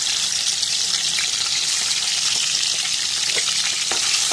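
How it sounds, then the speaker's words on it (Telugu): Fish fry in hot oil, making a loud, dense, continuous sizzle that holds even throughout without any voices. "ఈ నూనెలో వేపేసుకుంటానండి చేపలు"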